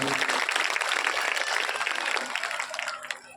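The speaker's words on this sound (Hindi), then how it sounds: "इनके लिए भी जोरदार ताली" Audience clapping at a Shrimad Bhagavat Katha religious gathering in Jalandhar, a steady dense wash of applause that thins and fades toward the end.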